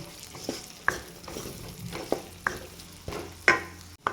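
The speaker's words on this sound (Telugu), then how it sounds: "బాగా కాస్త కలర్ చేంజ్ అయ్యే వరకు ఫ్రై చేసుకోండి ఆనియన్స్" Chopped onions frying in a pan, a constant soft sizzle broken by several sharp stirring scrapes and clinks at irregular intervals, close up with no voices.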